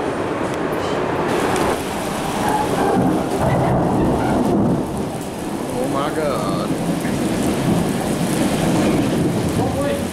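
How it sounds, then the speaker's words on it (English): A thunderstorm brings a dense, constant roar of heavy rain along with deep rumbling thunder. A person briefly exclaims over it. "It's raining. It's raining."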